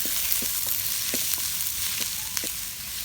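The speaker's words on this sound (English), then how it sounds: "we'll add about 2 cups of onions. We're going to sweat these for a couple minutes" Onions sweating in hot oil for goulash, a steady close sizzle and crackle throughout with a few soft stirring ticks, no voices.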